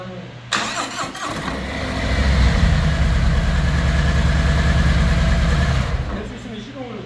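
An engine turns over and catches, then settles into a steady rumbling idle for several seconds before cutting off, with a click at the start and some talking.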